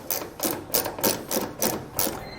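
Two taillight screws on a 2017 Chevrolet backed out with a T15 bit, heard up close as a series of short, evenly spaced mechanical bursts from a powered driver.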